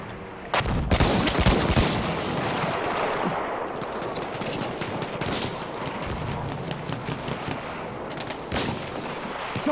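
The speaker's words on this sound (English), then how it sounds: "There's an enemy machine gun." An enemy machine gun fires continuously in the video game Battlefield 1, a dense, loud stream of rapid shots with booming explosions mixed in, amid a busy battlefield din.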